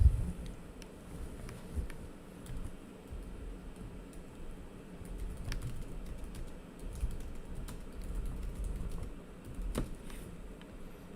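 Quiet, steady clicking of keys on a computer keyboard, a continuous run of soft taps with occasional louder strikes, close by and without voices.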